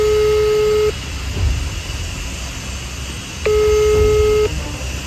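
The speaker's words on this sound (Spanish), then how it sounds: "Voy a llamar otra vez a ver." A phone places an outgoing call, giving two long steady ringback tones spaced a few seconds apart over a constant background hum.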